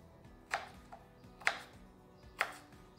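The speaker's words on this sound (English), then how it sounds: "So you're just chopping this up into little cubes." A kitchen knife chops food into large dice cubes on a cutting board, three distinct, evenly spaced knocks about a second apart, close and fairly quiet.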